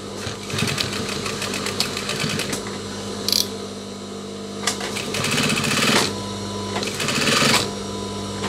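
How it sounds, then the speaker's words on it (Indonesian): A sewing machine stitches the cuff of a denim jacket with loud, fast rattling needle bursts that start and stop several times, separated by short pauses and faint handling noises. "Kemudian kita jahit kurang lebih 1 cm."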